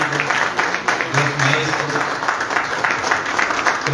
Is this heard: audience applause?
yes